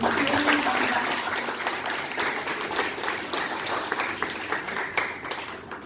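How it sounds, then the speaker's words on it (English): Steady applause from a crowd fills the whole stretch, dense and loud at first and tapering slightly toward the end. "one more round of applause"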